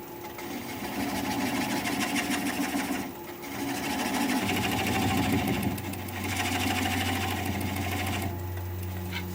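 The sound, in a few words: wood lathe turning mountain mahogany bowl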